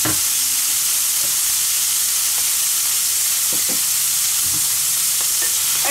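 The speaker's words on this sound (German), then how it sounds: "Der Speck wird schön angeröstet." Bacon roasts in a pan for a grilled skewer dish, producing a steady, close, loud sizzle and hiss throughout, with occasional scraping clicks of stirring.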